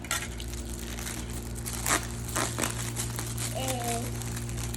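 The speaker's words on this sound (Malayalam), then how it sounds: "നോക്കി ഞാൻ അൺബോക്സ് ചെയ്യാണ്." Plastic packaging from a Temu order crinkles and rustles in close, uneven bursts as it is opened by hand, with a voice talking over it.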